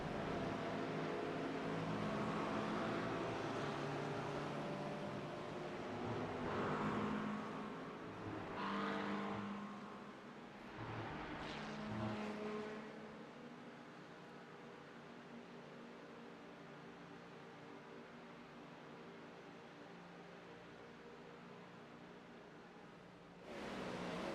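GT3 race cars in a video game race at Daytona, engines droning steadily as they run down the backstretch, with a few louder passes and shifts early on before the noise settles into a continuous hum.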